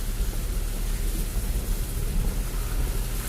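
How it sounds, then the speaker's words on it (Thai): Steady rain falling over flooded rice fields and hills, a dense continuous hiss with low rumbling, close and loud, no voices. "วันนี้ฝนตกตลอด"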